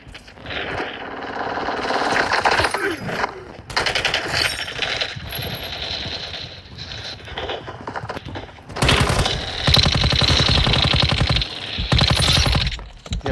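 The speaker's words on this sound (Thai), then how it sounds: "เปิดมาก็โดนอาก้ายิงแล้ว" AK rifle fire in the mobile shooter Call of Duty Warzone Mobile comes in loud, close automatic bursts, with rapid rattling volleys separated by brief pauses and a long sustained burst near the end.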